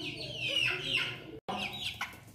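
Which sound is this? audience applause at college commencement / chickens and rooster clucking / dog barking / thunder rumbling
chickens and rooster clucking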